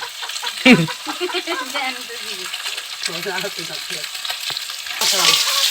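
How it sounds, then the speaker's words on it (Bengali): Rohu fish sizzles and spatters in hot oil in a pan, a close, continuous frying crackle with occasional stirring clinks, while someone talks over it. "আমার মাছগুলো ভাজা হয়ে গেছে"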